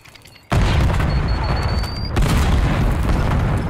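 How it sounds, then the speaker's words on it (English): A sudden heavy grenade blast in an online shooter game's search-and-destroy mode, followed by a second boom about a second and a half later, both loud and close with a lingering rumble. "how many nades are they gonna throw?"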